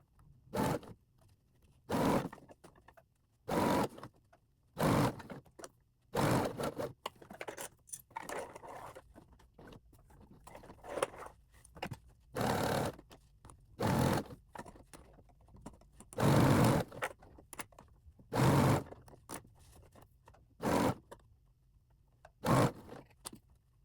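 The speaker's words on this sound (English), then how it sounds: "Now I'm going to sew 1/8 of an inch all the way around." A sewing machine runs in repeated short bursts while stitching around the edge of a Featherweight dust cover, each run of a second or so separated by brief pauses, close and fairly quiet with no talk.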